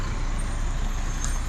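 A delivery truck pulls up outside a garage at a newly bought house, its engine a steady low rumble with a short hiss partway through, heard at a moderate distance.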